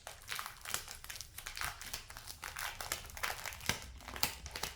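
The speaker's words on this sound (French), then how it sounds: "dès que je déballe quelque chose, forcément, j'essaie de faire attention, mais il y en a qui sont collés plus que d'autres, et du coup, ça me déchire un petit peu le plastique" Stuck plastic packaging for a craft kit crinkles and tears as it is pulled open, a continuous close, faint rustle with small crackling bursts.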